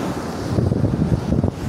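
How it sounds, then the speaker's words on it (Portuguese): Sea waves wash up on a beach with a brief, rushing churn of surf blended with wind buffeting the microphone, loud and close. "Russo, a água já tá batendo aqui, ó."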